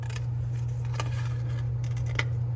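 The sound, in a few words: scissors cutting foam sheet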